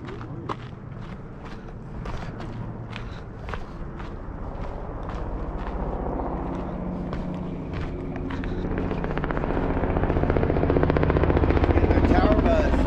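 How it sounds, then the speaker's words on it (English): A tour helicopter passes over the Castle Rock trail at Big Bear Lake, California, its low rotor thrum swelling steadily louder as it nears, while footsteps crunch along the trail. "I wonder if that's the helicopter tour."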